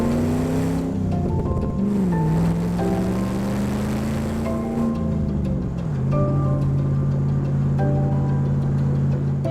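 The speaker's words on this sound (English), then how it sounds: "Driving a D90 soft top with the LS3 and manual transmission is an absolute blast." A Land Rover Defender 90 soft top with a 430 horsepower LS3 V8 and a 5-speed manual drives along, its engine droning loudly and steadily with pitch rising and falling as it changes gears.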